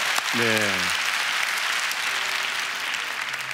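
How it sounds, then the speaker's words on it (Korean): A church congregation at a New Year's Eve service applauds in praise, a steady wash of clapping with a brief spoken voice at the start. "이 모든 일을 행하신 우리 하나님께 영광의 박수를 드리겠습니다"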